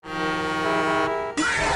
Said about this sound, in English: We get a completely random car honk jump scare.